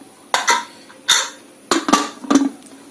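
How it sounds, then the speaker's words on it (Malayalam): A pressure cooker lid being closed and locked in a home kitchen while making rice gruel: four sharp metallic clanks and scrapes, close and loud, spaced irregularly. "ഇനി നമുക്ക് കുക്കർ അടച്ച് വെക്കാം"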